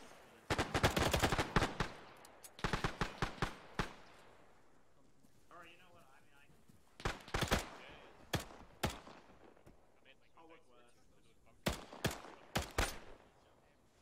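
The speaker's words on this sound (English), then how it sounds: "There was a machine gunner firing full." Full-auto machine gun bursts in an online military video game crack out in several loud rapid volleys with quiet gaps between them, while players talk faintly over radio chatter.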